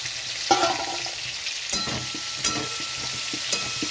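Tomato with cumin and turmeric powder fries in oil in a pan for a prawn and brinjal curry, a continuous close sizzle punctuated by a few sharp spatula scrapes and taps, no talking.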